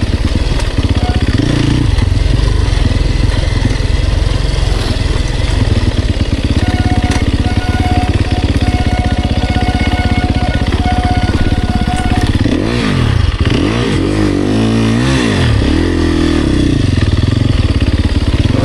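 Enduro motorcycle engine at an enduro event on Karya, Olympus, running steadily close by, then revving hard with the throttle opened, swooping up and down in pitch several times near the end.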